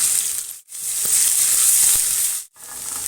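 Ginger and garlic sizzle in hot oil with mustard seeds and urad dal in a pan for a potato and green peas fry, a steady close hiss that briefly drops out twice.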